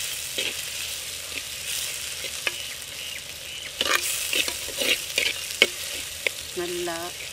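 Tomatoes and onions fry in a pan for a fish curry, a steady close sizzle broken by scattered scrapes and taps of a stirring spoon that grow busier midway, with no talking.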